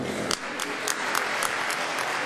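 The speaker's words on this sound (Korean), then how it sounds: "공연이 끝나자 열렬한 박수가 그를 향해 쏟아졌다" Enthusiastic applause rises at the end of a stage performance, a faint, steady wash of clapping with a few sharper individual claps, under a narrator's voice.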